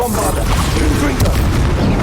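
Bombarda and Confringo spell blasts in Hogwarts Legacy, a continuous loud rumble of booming impacts and bursts packed tightly together, one sharper crack standing out near the middle.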